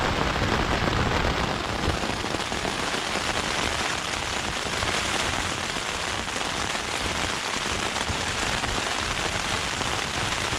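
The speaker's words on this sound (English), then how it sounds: "the rain's kicking in big time now" Heavy rain drums steadily on a surface nearby during a coastal wild camp at St Abb's Head, Scotland, a dense continuous patter with no voices.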